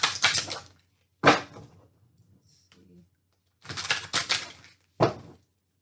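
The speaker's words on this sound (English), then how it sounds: "So I'm pulling from my fountain deck now" Oracle cards pulled from a fountain deck, heard as several crisp, papery bursts of shuffling and snapping in quick clusters, fairly close with short quiet gaps between them.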